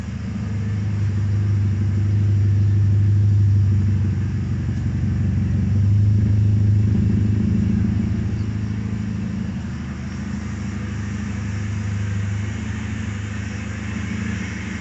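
A K24 engine-swapped Honda Civic runs at idle close by, a loud steady low rumble that swells slightly a couple of times, with no talking.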